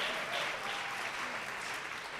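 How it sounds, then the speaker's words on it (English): Gala audience applauding steadily throughout, a dense even wash of clapping at moderate volume with no speech over it. "Let's give a round of applause"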